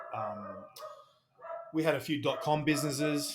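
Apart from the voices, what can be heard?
dog barking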